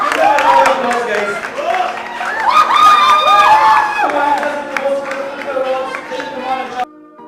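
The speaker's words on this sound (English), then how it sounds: "Give them a round of applause, guys." A live audience at a quiz game event cheers and shouts in a loud, excited burst with some clapping mixed in, voices overlapping throughout before cutting off abruptly.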